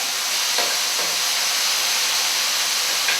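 Chicken and mushrooms sizzle steadily in a hot pan, a bright continuous hiss with faint crackles, close and fairly loud.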